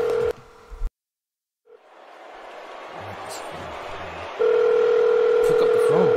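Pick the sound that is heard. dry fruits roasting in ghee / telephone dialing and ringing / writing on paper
telephone dialing and ringing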